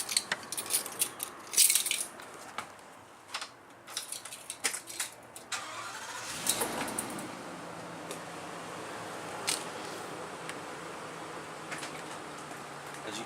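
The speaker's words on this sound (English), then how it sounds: "you need to turn the engine on" An RV engine is started after a few clicks and rattles, catching with a short burst and then idling steadily and quietly for the rest of the time.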